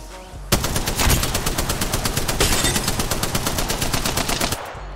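Sustained automatic weapon fire from an Apex Legends match, a rapid, evenly spaced burst of shots running steadily for several seconds, loud and close with no talk over it.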